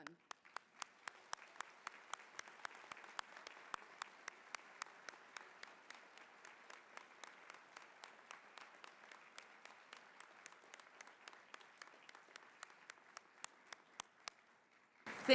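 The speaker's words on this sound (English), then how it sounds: "your families and your friends and your professors could all applaud" At a college of nursing pinning ceremony, families, friends and professors give the graduates a long, even round of applause, with a sharp, loud, regular clap rising above the crowd roughly every third of a second.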